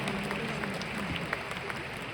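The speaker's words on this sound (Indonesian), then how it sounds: "Kita pantas beri tepuk tangan yang paling meriah untuk Riway Internasional." Audience clapping fills a seminar hall for a business event in a continuous, dense wash of applause with a faint crowd murmur underneath.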